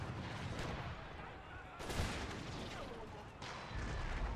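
Cannon fire and musket volleys rumble through a battle in Empire Total War, with sharp artillery blasts near the two-second mark and again near the end over a constant background crackle, and speech briefly audible.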